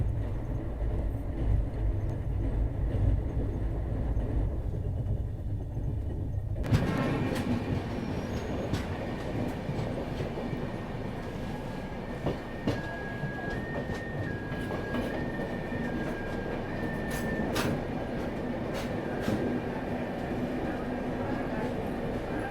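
A passenger train crossing the Tapi river bridge near Surat rumbles steadily, with wheels clattering and squealing on the rails throughout. The sound grows louder and more open partway through as the crossing begins.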